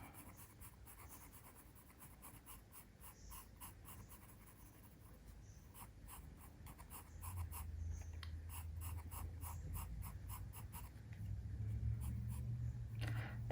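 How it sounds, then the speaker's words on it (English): A pencil shades a portrait drawing, with soft, close scratchy strokes repeating in quick irregular bursts over a quiet background, growing slightly fuller toward the end. "I'm going to switch to my lighter pencil for the shadow on the right side of his face"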